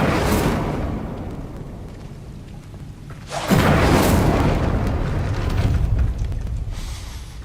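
Incendio fire spell in the video game Hogwarts Legacy: a booming blast that flares suddenly midway and rolls on loud and sustained, over a softer rumbling game background.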